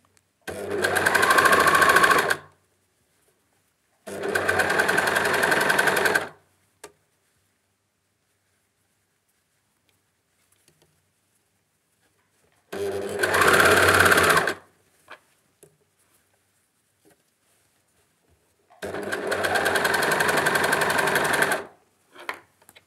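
Sewing machine attaching a ribbed cuff to children's trousers, running in four loud bursts of rapid stitching separated by long silent pauses.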